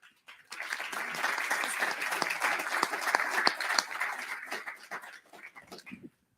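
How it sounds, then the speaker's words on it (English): An audience at an SBA and NPHC roundtable bursts into dense, steady clapping that swells for several seconds, then tapers off into a few scattered claps before stopping. "let's give a round of applause first to our Council of Presidents that are here"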